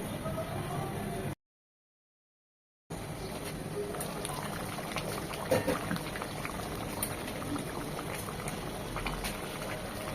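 Beef kala bhuna simmers in a pot, a continuous low bubbling and crackle broken by a brief silent gap, with a few faint pops, no speech.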